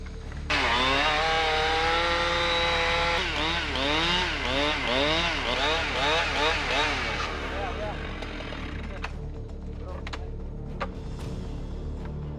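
Chainsaw cutting a tree during felling in a Malaysian timber forest, a loud steady two-stroke whine with rising and falling revving pulses as the blade bites, then easing off toward the end; outdoor setting.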